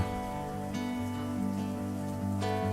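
A rain sound layer in a lofi beat patters steadily beneath sustained musical tones, a soft, even hiss of droplets throughout.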